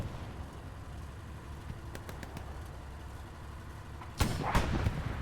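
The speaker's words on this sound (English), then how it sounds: "tank fight has returned" Tank gunfire during a fight in the Hell Let Loose video game, a sharp loud blast late in the clip followed by a second impact, over a constant rumbling battlefield backdrop.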